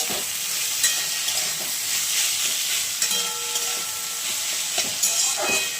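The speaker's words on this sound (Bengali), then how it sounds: "এদিকে ভাজছি হচ্ছে চিচিঙ্গে ভাজা" Snake gourd (chichinga) fries in a smoking pan with a loud, continuous hiss and crackle, broken by occasional stirring clinks.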